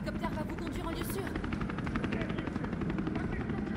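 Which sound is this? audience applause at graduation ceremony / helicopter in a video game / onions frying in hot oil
helicopter in a video game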